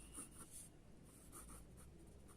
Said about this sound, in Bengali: একটা লাইন লিখছি